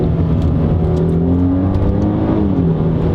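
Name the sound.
Mercedes C400 4MATIC 9G-Tronic automatic transmission shifting gears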